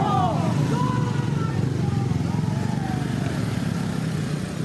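Motorcycles in a protest bike rally on an Assam road give a steady, close engine rumble that drones on without a break, with a few faint higher tones drifting over it.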